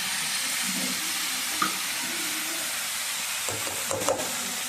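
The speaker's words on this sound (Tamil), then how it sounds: "இப்போ உருளைக்கிழங்கு சுத்தக்காய் ரெண்டும் நல்லா எண்ணெயில் ஊற்றி நல்லா வதக்கிக்கலாம்" Diced potatoes sautéing in hot oil in a village kitchen while an egg curry is prepared, giving a steady close sizzle with occasional stirring scrapes and small pops, no talking.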